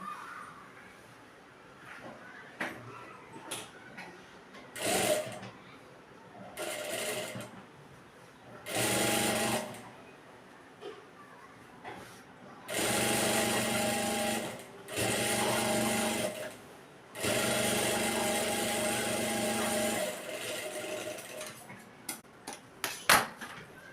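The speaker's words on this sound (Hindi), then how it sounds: "इस तरह से नीचे सिलाई लगाने के बाद अब हमें ऊपर से सिलाई लगाना है।" A sewing machine stitches the hem of a salwar in repeated bursts of steady whirring, several runs a few seconds long separated by pauses with small handling clicks.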